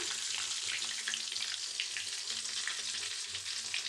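Aloo bread bajji, potato-stuffed bread fritters, fry in hot oil with a dense, continuous crackling sizzle that stays steady and loud throughout, with no talk.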